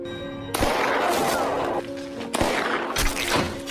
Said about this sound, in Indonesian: Di sini Yauchi berusaha menembak Nayaka